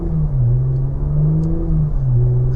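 Porsche Macan GTS accelerating hard with its PDK transmission, heard from inside as a loud, close engine drone that rises and dips through quick gear shifts, with no talking.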